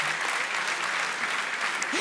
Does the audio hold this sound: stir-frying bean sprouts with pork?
no